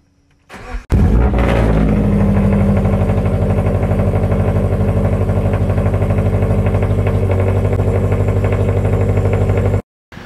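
A car engine with loud unequal length headers fires up after a brief quiet moment, then holds a steady, deep, burbling rumble for about nine seconds before cutting off abruptly near the end.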